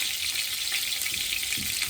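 Browned pork pieces frying in melted sugar in a pot, giving a dense, continuous hissing sizzle at close range, loud and unbroken, with no voices.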